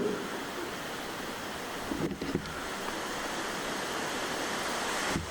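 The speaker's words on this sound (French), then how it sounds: "problème, c'est qu'il y a du vent." Steady, blustery wind roars across the open air, with a couple of brief thumps partway through and near the end.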